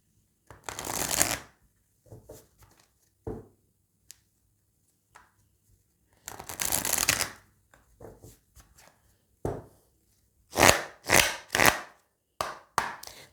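Oracle cards being shuffled: several separate bursts of loud, close riffling and slapping card noise, broken by silent gaps and a few sharp taps, with no talk.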